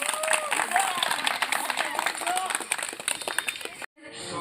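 A group of youth from Karang Taruna Satria Muda in Brujul, Kebumen claps together at a village tourism training session, a dense, steady patter of many hands that continues for several seconds and then cuts off abruptly.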